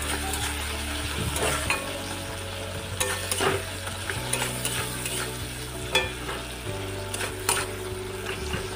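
Cumin and turmeric are stirred into a hot pan for a pointed gourd and shrimp curry. A spatula scrapes in rhythmic strokes over a continuous close sizzle of frying, with occasional sharper scrapes and clinks.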